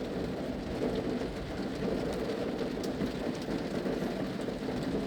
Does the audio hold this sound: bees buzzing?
no